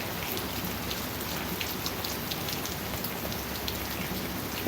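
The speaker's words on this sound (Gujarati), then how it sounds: "વરસાદ આવે" Steady rain falling, a dense even hiss of drops on a surface with no pauses, close and moderately loud throughout.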